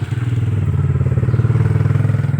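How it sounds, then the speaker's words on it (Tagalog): A passing motorcycle engine rumbles loudly and close, a steady throbbing putter that holds strong throughout with no talking. "Ayan, may motor na dumaan."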